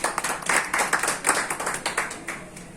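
An audience at a human rights organisation meeting claps to welcome a guest. The clapping is close and rhythmic, with sharp repeated hand claps that hold steady for about three seconds.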